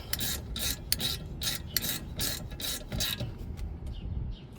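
A hand tool works the bolts on the rear brakes of a 2020 Honda Civic in a rapid series of short, raspy, rhythmic strokes, close and fairly quiet, tapering off near the end with no talk.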